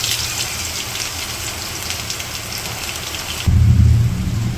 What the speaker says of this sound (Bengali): একটু বৃষ্টি নামছে